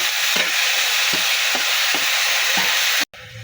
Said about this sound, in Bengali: এখন নেড়ে চেড়ে মশলাগুলোর সাথে মিশিয়ে নেব